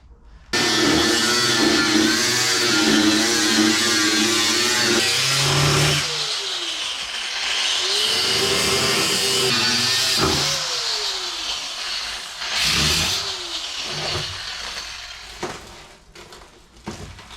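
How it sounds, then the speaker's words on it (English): Angle grinder spinning up and cutting the sill off a 1978 MGB GT, a loud, close whine that rises and dips as the disc bites into the metal, then winds down with scattered knocks in between. "I'm just going to get the grinder here, slice this sill off"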